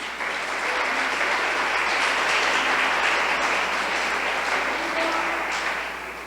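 A church congregation applauds, a dense, sustained wash of many hands clapping that swells and holds for several seconds before tapering at the end.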